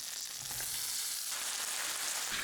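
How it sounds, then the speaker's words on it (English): Onions sweating in a pan for lasagna make a faint, even hiss of gentle frying. The sound is steady throughout, with only slight shifts in texture. "Some onions, sweat them a little bit,"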